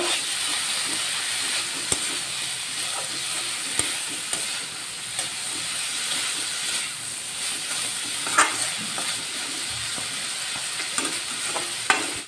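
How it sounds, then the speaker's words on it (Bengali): Chopped thankuni greens with shrimp being stir-fried in a wok, a continuous hissing sizzle with occasional sharp scrape and clatter hits from stirring, steady and close with no talking. "এইবার আমি কেটে রাখা শাকটা দিয়ে দিচ্ছি। এটা অল্প নাড়াচাড়া করে নেব।"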